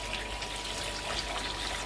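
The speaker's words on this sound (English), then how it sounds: "And wash it again with cold water." Running cold water rinses bitter gourd leaves, a steady soft gush of tap water that stays continuous and even throughout, fairly quiet with no voices.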